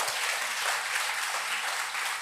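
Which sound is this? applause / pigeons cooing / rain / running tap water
applause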